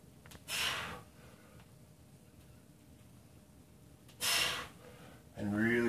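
Breathing during a core exercise routine: a few strong breath bursts, one near the start and two toward the end, against a quiet background, with a short vocal sound at the close.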